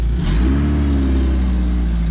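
A camping-car running on LPG and prone to stalling revs while stuck in mud, giving a loud, steady, close mid-pitched engine drone that holds for about two seconds without talk.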